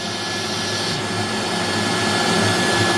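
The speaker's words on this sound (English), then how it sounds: "the quietness of the shop vac quiet box" A shop vac runs inside a sound-dampening quiet box in a spare bedroom workshop, giving a steady, loud, broadband whoosh and hum with no pauses, alone throughout.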